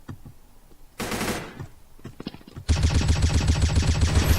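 Gunfire in the video game Blood Strike, set on a desert defuse map: a few scattered shots and a short burst, then a loud, sustained rapid automatic volley that runs to the end.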